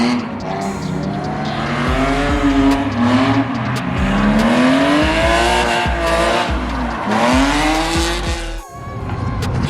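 Drift cars lapping a race track at a drift-week track day, engines revving loud and close with long sweeping pitch rises and sustained tire squeal, a brief dip near the end before the noise resumes.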